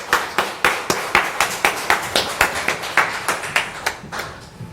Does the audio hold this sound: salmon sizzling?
no